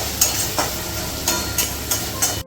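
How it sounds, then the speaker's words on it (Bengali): Spices and garlic paste stir-fried in oil in a pan for a chicken curry, a steady sizzle broken by regular scraping strokes of a spatula at a brisk rhythm, with no talk. "এটাকে দিয়ে ভালো করে মশলাটাকে এবার আমি কষবো"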